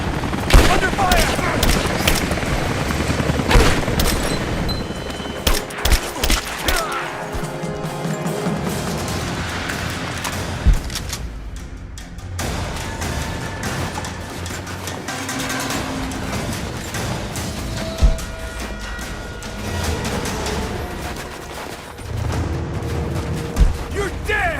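Gunfire and explosions in the action video game Rise of the Tomb Raider, with bursts of shots, crashes and booms over a dense, loud game score, and raised voices calling out now and then.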